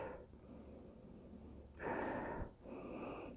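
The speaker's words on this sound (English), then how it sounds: "let's take a sniff of the aroma" Someone takes a sharp, close nasal sniff over a glass of Sapporo Premium lager, a brief breathy burst that follows a quieter stretch of room tone.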